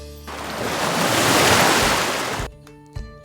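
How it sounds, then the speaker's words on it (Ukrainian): Ocean surf rolls in as a loud, close roar that swells and then cuts off abruptly, leaving only quiet tonal sounds at the end. "хвилі"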